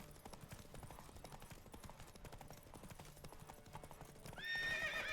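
Roach, the horse in The Witcher 3: Wild Hunt, gallops with a rapid, even clip-clop of hooves, then lets out a loud, close whinny at the end.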